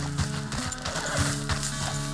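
Horse hooves clop in a steady rhythm during riding in the video game Red Dead Redemption 2, with creaking tack and a dense game soundscape around them.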